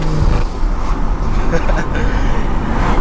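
A Stage 2+ tuned BMW on its stock exhaust drones with a deep, steady engine rumble from inside the cabin, loud and continuous with light road noise and no clear revving peaks.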